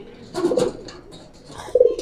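Pigeons coo inside a racing-pigeon coop, two clear throaty coos close by separated by a quieter stretch, with faint background rustle.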